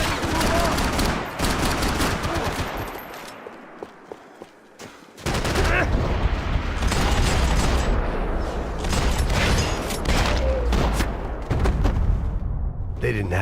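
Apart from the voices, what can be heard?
gunfire in the video game Max Payne 3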